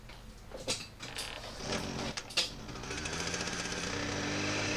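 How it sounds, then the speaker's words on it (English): Small gasoline engine driving a cutter head on a test run, running rough, with uneven clattering and knocking that settles into a rising, steadier mechanical rattle, close and moderately loud. "Motor's not running that good, needs a tune-up yet."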